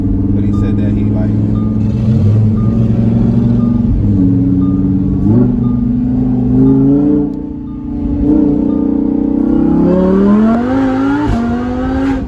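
A supercharged Lamborghini Huracan Evo revs and accelerates from inside the cabin, its engine note climbing through the gears with a dip at a shift, loud and rumbling under people talking.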